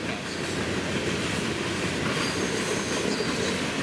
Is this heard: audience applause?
no